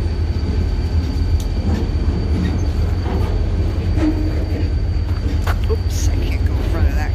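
A CSX freight train with double-stack container cars rolls past close by, a steady loud rumble of wheels and cars with faint squeals and clanks throughout, while people talk nearby.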